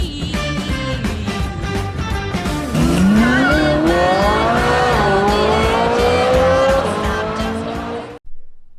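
A car engine idles with a low throb, then revs up and pulls away. The rising, climbing engine note carries a tyre squeal and cuts off abruptly near the end.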